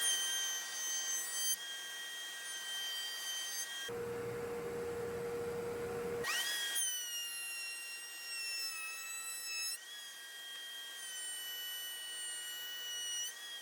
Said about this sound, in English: we're gonna start by going down to the 5 on the Bosch router